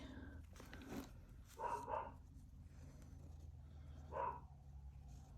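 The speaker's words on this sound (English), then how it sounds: "do apologise if you can hear my dog in the background barking as well" A dog barks a few times in the distance, faint and muffled, with a short pair of barks followed later by one more.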